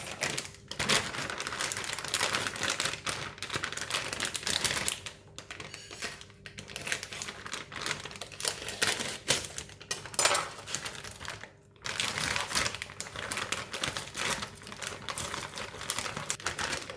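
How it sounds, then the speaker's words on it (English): A knife cutting about 200 grams of still-icy frozen crab balls on a board for a stir-fried lettuce dish: dense, crunchy crackling and rapid clicking chops run nearly continuously, close and fairly loud, with brief pauses. "Now we're going to cut the crab balls."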